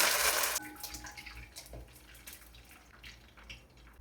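Mustard seeds and curry leaves hit hot oil for a Kerala ginger curry, giving a sharp sizzling burst at the start that settles into a quieter, crackling fry.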